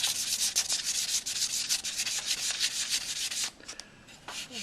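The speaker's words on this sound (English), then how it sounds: "so I'll just lightly sand it." Light hand sanding of a wood-burned pen blank, with brisk back-and-forth abrasive strokes rasping close and steady for several seconds before easing into a few softer rubs.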